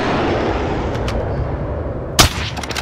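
Gunfire from a first-person shooter video game: a continuous rumble of distant shots runs throughout, with one sharp, louder report near the end followed by a few fainter cracks.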